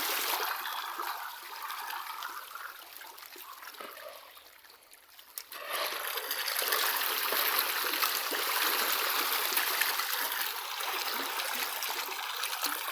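Water gushing and splashing loudly and continuously, softer and uneven at first, then a fuller, stronger rush after a brief dip partway through.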